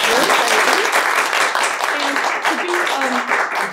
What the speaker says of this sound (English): I'm going to do the panelists all a round of applause.